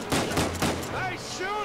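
Gunfire in the action-adventure game Uncharted 4: A Thief's End, with a few close, punchy shots in quick succession followed by ringing, whistling tails.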